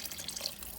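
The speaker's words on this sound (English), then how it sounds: "I'm just going to pour a splash or so" A splash of apple cider vinegar poured into a pot of chicken bone broth, a short, close trickle of liquid lasting under a second, with no talking.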